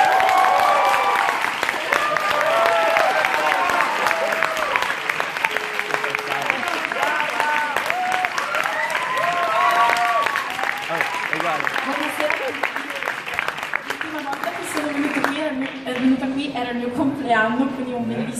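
An in-store crowd in Rome applauds and cheers to welcome a singer, steady clapping mixed with whoops and voices, thinning near the end as talking takes over.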